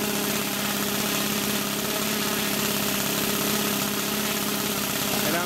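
A Saito 1.00 GK glow engine runs steadily during break-in with the glow starter attached, giving a loud, continuous buzzing drone at fairly constant low RPM throughout.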